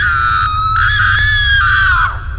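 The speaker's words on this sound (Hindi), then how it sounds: "तभी बाहर से किसी की चीखने की आवाज आती है।" A loud, sustained high-pitched scream in a cartoon horror story set in a haunted hospital, one long wavering cry lasting about two seconds before cutting off sharply.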